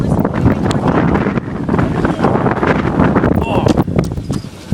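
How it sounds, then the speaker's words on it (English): Strong storm wind buffets the microphone in steady, loud roaring gusts, with people talking intermittently over it. "there is a lot of wind coming up and a lot of swirling clouds"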